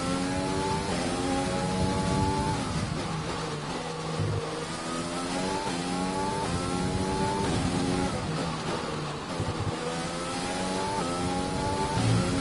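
F1 race car engine in the F1 2020 game at the Russia circuit, a loud high-pitched whine climbing through gears in repeated upshift steps, dropping on downshifts, continuous and close throughout.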